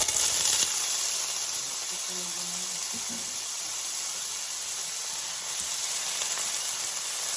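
Chickpeas crackle as they fry in olive oil in a home kitchen pan for a quinoa salad, a steady close sizzle and hiss running throughout with no talking.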